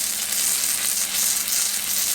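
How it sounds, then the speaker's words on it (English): Sourdough blueberry pancakes cook on a hot skillet, giving a steady, even sizzle close up with no voices throughout. "I am going to let these cook a few more seconds and take them off."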